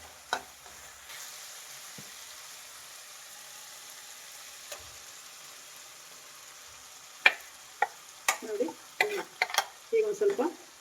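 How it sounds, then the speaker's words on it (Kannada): Ground masala paste goes into a frying pot of beans and egg sambar, with a quiet steady sizzle followed by a run of sharp, close scraping stirs and spoon knocks toward the end. "ಈಗ ನಾವು ರುಬ್ಬಿಟ್ಕೊಂಡಿರುವಂಥ ಮಸಾಲೆ ಹಾಕ್ತಾ ಇದ್ದೀನಿ."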